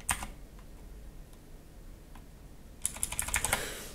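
Fingers type on a cheap mechanical keyboard, with a few scattered clicks near the start and then a quick close burst of keystrokes near the end over a quiet background.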